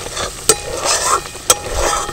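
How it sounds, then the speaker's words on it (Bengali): Spice paste being stirred and fried in oil in a pan for Basanti pulao, a steady soft sizzle with two sharp spoon scrapes against the pan, close and alone. "মশলাটাকে ভালো করে কষিয়ে নেব"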